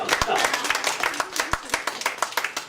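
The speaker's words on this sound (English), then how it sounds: "I just want to applaud Carolyn Ray for really coming" Meeting attendees applaud Carolyn Ray, a burst of sharp, uneven hand claps from a small group, close and moderately loud, with a voice speaking over part of it.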